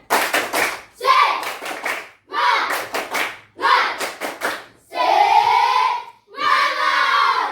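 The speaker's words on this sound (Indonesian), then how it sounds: "Kalau begitu, kita tepuk semangat dulu." Students in a classroom do a spirit clap chant together: tight bursts of rhythmic unison clapping followed by loud collective shouted calls, repeated in an energetic pattern.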